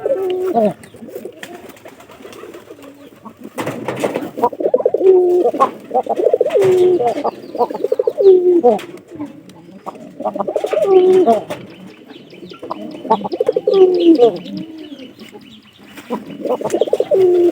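A newly paired desi pigeon and giribaj pigeon coo close by in repeated throaty phrases, rising and falling in bursts, with occasional brief chirps between.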